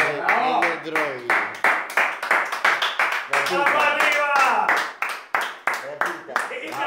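A crowd claps hard and steadily at a gathering, with sharp overlapping hand claps throughout and voices calling and talking loudly over the applause.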